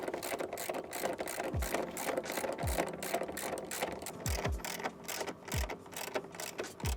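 Steady rapid clicking of a hand ratchet tightening nylock nuts onto bolts in deck L-track on a garage slide-out deck, a continuous rhythmic run of clicks with a few low thuds, close by.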